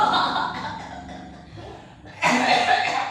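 A man coughs and chortles in a burst of delight, a rough breathy fit that swells louder after a brief lull, close and alone without other speech.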